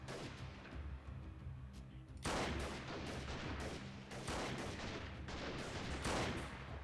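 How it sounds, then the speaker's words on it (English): Gunfire rattles through a battle in the video game Freeman Guerrilla Warfare: scattered single shots at first, then a dense run of rapid, loud bursts and volleys continuing to the end. "We are having a couple of people shoot at them"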